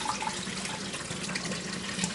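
Steady rushing water pours and splashes continuously, a close, even stream with no talking.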